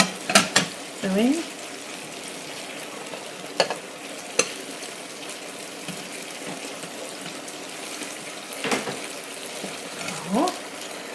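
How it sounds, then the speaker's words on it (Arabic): Rice with peas turned over in a pot, scattered soft scrapes and clinks of a spoon against the pot over a steady background hiss, close, with a brief spoken word partway through. "هنا ده الرز بتاعنا، رز بالبسلة انا عاملاه. هنقلبه كده"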